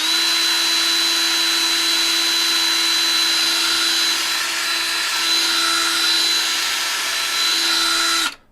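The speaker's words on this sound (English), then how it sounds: "So I'm just using the drill bit to core back and forth, kind of like a saw with your drill bit." A power drill runs continuously as its bit cores a filament hole on a Recreator3D filament maker build, giving a steady, high-pitched whine with a faint wavering tone, close and loud, cutting off abruptly at the end.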